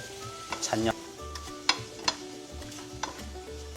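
Cabbage, green onion and chili stir-frying in sesame oil in a hot pan, a steady soft sizzle broken by several sharp clicks and scrapes of a utensil against the pan, close and clear with no talking.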